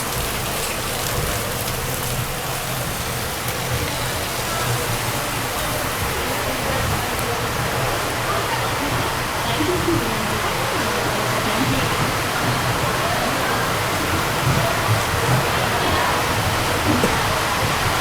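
Steady heavy rain pouring at a railway platform as a train moves past, a constant close hiss with a low rumble underneath and no break.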